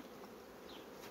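Honey bees buzz densely around a beehive during colony work, giving a continuous, close droning hum with no speech.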